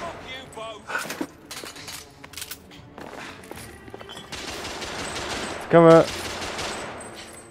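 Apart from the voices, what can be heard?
gunfire in the video game The Order: 1886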